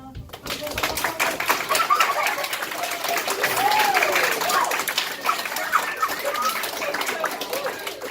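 Audience clapping at a live jazz funk show, a crowd applauding steadily throughout with a few whoops and faint voices mixed in, moderately close.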